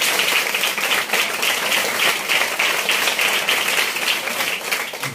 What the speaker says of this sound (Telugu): హర్షిత్ క్లాప్స్ కొట్టండి ఒకసారి